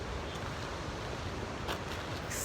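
Ocean waves and surf wash steadily in the distance, mixed with wind buffeting the microphone, a constant broad rush with no voices.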